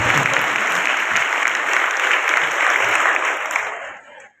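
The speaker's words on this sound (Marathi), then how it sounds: "कारण तुम्ही एवढ्या टाळ्या वाजवल्या" An audience claps steadily at a Rajotsav gathering, dense, loud applause from many hands that holds for several seconds before fading out at the end.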